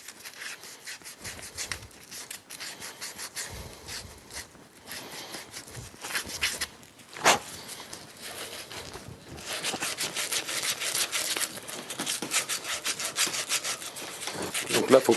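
Brass plumbing fitting scrubbed by hand before tin soldering, a steady close rasping rub that starts gently and grows louder and denser in the second half, with no talking.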